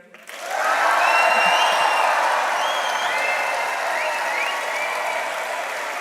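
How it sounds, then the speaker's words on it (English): A large crowd at a university graduation ceremony bursts into loud cheering and applause that swells quickly and holds strong, with whoops and shouts rising above the clapping. "let's hear you cheer on a count of 3"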